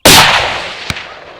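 A single hunting rifle shot on an African safari in South Africa, a loud sharp crack at the start that rolls off into a long fading echo, with a faint thud of the impact shortly after.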